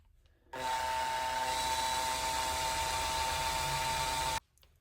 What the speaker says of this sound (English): next you take your polishing wheel and drill or whatever you're using